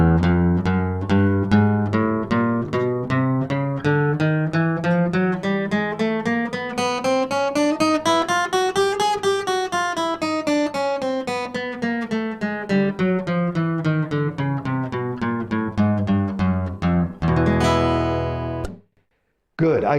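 Guitar playing a chromatic scale, single notes climbing steadily in half steps and then descending in an even, continuous run, clear and close with no talking, ending in a short burst of strummed noise.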